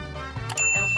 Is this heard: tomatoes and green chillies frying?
no